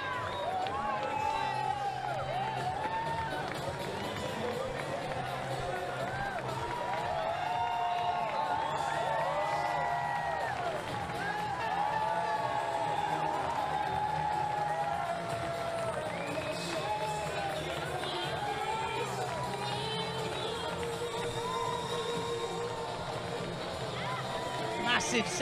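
A crowd at a para judo event cheers and shouts in celebration of a gold medal, a steady, excited roar of voices heard at moderate distance, with a commentator talking over it.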